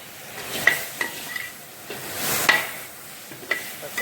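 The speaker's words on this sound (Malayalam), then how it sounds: "നമുക്കതിലേക്ക് കട്ട് ചെയ്ത് വെച്ച തക്കാളി ഇടാം" Chopped tomatoes frying in masala with turmeric for a mushroom coconut curry, a sizzle broken by repeated scraping stirs and sharp clinks of a spoon against the pan, close and alone.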